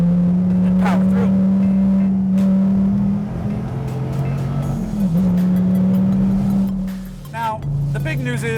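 A powerful Dodge Viper engine roars steadily, pitch shifting as it drops through a gear change and picks back up, loud and close with tire noise near the end.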